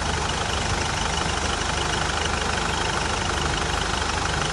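A 2017 tempo van's diesel engine with about 2.7 lakh km driven idles close by, its steady, even rumble carrying a slight vibration, running alone without pause.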